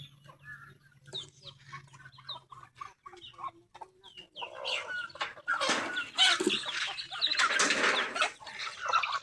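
Chickens on a Filipino farm clucking near and far, scattered calls at first that build into louder overlapping clucks and some wing flapping.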